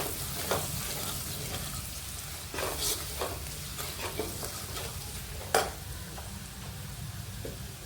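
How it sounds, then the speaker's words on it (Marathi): Red chili powder and turmeric sizzle steadily in hot oil for a South Indian masala pappu, with a spoon scraping and stirring the pan in occasional close knocks. "लाल तिखट टाकते बघा, ते पण छान तेलात परतून घ्यायचं"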